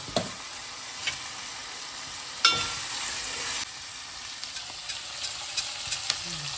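Fenugreek seeds fry in a pan with a soft, continuous sizzle and occasional stirring scrapes and small pops, close and alone with no talking.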